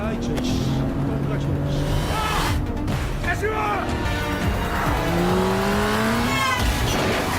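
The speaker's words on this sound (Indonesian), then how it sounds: "Pembunuh misterius yang menyadari ancaman pun menginjak gas mobilnya." A car engine revs and accelerates away in a tense film chase scene, mixed with dramatic music tones and people talking over it, steady and fairly loud throughout.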